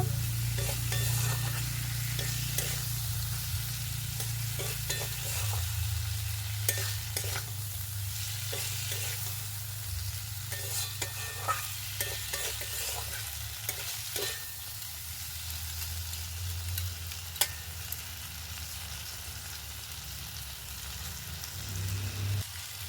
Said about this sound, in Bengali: আলুগুলো ভালো করে কষিয়ে নেব।